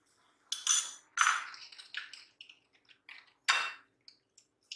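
Milk and sugar being whisked together for French toast, giving a series of close, sharp clinks and scrapes of utensil against a bowl, in short bursts with brief pauses and no talk.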